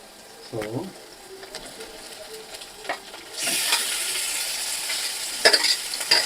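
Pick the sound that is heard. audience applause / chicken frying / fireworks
chicken frying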